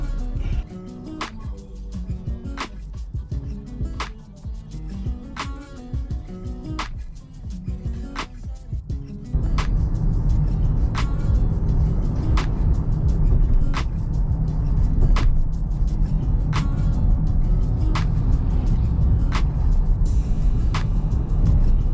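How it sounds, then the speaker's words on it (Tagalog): Morning traffic in Vancouver heard from inside a moving car: a steady engine and road rumble that grows louder partway through, with repeated ticking clicks. "Traffic ngayon dito pag every morning"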